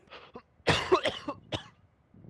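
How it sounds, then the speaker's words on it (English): A person coughs in a short burst, one small rasp followed by a loud harsh cough and a couple of smaller throat-clearing hacks, close to the microphone with no talk. "I just fucking coughed shit all over my computer."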